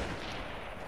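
Gunfire in the video game Fortnite, a dense, loud burst of shots filling the short moment without any talk.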